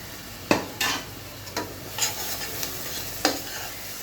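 Low sizzling of onions frying in a pan broken by several sharp scraping stirs at irregular intervals, fairly close, with no voices.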